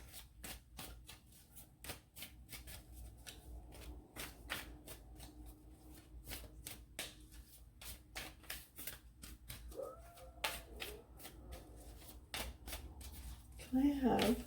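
Tarot cards being shuffled in a steady run of crisp riffles and taps, fairly close and moderately loud, continuing for the whole stretch with a brief burst of extra handling near the end; no one talks.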